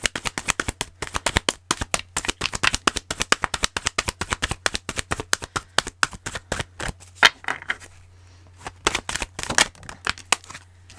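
Tarot cards being shuffled in rapid, dense bursts of papery riffling clicks, steady for most of the stretch, with a brief lull and then a few more quick riffles, close and fairly loud with no talking.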